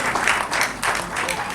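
Audience applause at a Hindi poetry recital in Ghaziabad's Hindi Bhavan, a short burst of close, loud clapping in uneven surges.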